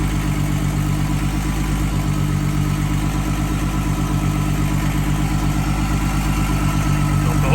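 A turbocharged VW VR6 engine runs at a steady idle nearby, a continuous low rumble with an even throb and no change in pitch throughout.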